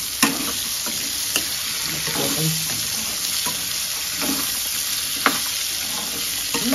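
Green peas go into a curry frying in a pan for a pea and potato dish, with a steady close sizzle and a few light clicks and knocks from the pan, and no talk.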